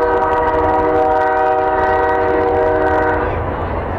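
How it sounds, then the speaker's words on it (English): A train rolls past a small-town baseball field with a long, steady horn blast made of stacked tones over a rumbling undercarriage. The horn is loud and close and holds for about three seconds, then fades as the rumble continues. "Train chugging through there."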